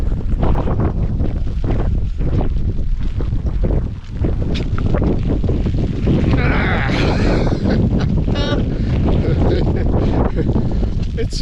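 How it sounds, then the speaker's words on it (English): Wind and rain at Derwent Water near Keswick, Cumbria, with strong gusts buffeting the microphone and a steady wet rush throughout, loud and close, with a brief lull midway. "It's a bit windy and wet."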